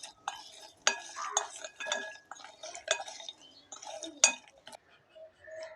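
Fried namak pare snacks tossed with chaat masala and chilli powder in a bowl, giving light clinking and rattling knocks in uneven bursts, close and fairly quiet, with no talk.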